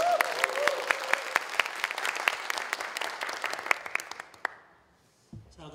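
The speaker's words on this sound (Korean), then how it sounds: "큰 박수 한번 부탁드립니다" An audience at a Dale Carnegie CEO welcome party applauds with many scattered, crisp claps that build and then taper off to near silence, followed by a brief low sound at the end.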